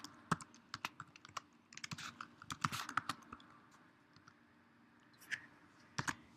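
Someone types on a Mac computer keyboard, with quiet, irregular key clicks in short bursts and pauses, close by, no talking.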